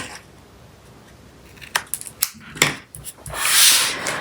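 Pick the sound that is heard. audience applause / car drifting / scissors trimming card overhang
scissors trimming card overhang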